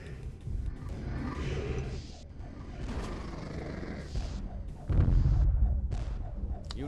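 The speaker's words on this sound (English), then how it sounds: "let's get more sun cannons firing here" Sun cannons fire in the strategy video game Netstorm: Islands at War, a run of rumbling booming blasts and crashes that overlap for about seven seconds and swell louder toward the end.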